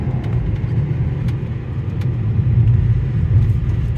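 A 2015 Volkswagen Passat CC with a 200-horsepower engine and dual-clutch gearbox gives a steady, loud, low engine drone with a rumbling undertone, heard close up without talking.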